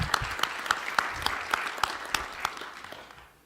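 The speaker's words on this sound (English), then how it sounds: "I would like to take a moment to a round of applause for the ARIN staff." An audience at a members' meeting of an internet number registry applauds the conference staff. The clapping is steady and broadband, with distinct individual claps standing out, and it fades away near the end.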